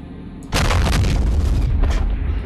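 128mm deck guns on a Space Engineers video game ship fire with a single heavy boom that starts abruptly, then rolls into a loud, sustained rumbling blast lasting about two seconds.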